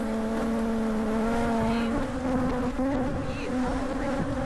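A dense swarm of bees hums continuously at a hive, loud and close, with individual buzzes rising and falling in pitch as insects pass near.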